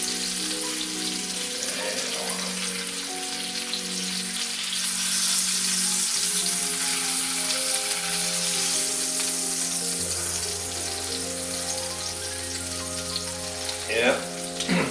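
Breaded chicken cordon bleu frying in a pan of oil, a continuous bubbling sizzle with faint background tones and a brief clatter near the end as pieces are flipped, no speech.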